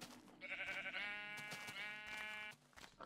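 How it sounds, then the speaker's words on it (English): Sheep bleating in the Minecraft Better Than Adventure mod: a loud, wavering bleat with a few quick pulses, then a long sustained cry lasting around two seconds, alone with no talk. "Sorry, sheep. I know I have shears, but I really need your wool, I believe."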